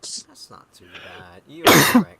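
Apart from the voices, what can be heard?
cough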